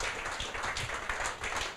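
A studio audience at a regional sports talk show applauds a departing guest, with quick, fairly faint clapping of many hands continuing throughout.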